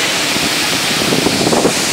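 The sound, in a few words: waterfall at Oum er-Rbia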